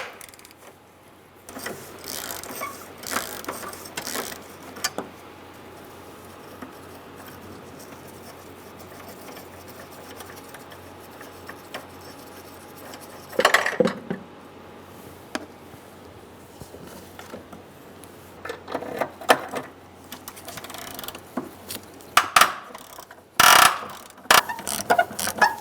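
A ratchet with a 10 mm socket loosens the battery hold-down on a 2014-2018 Subaru Forester, giving quiet clicking spells broken by a few louder, sharp metallic clatters near the middle and end, with no talk.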